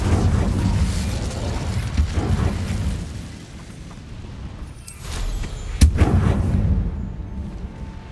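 An Incendio fire spell cast in Hogwarts Legacy, heard as a rumbling, booming roar of fire that swells and fades, followed by a sharp, loud burst about two-thirds of the way through, with no talking.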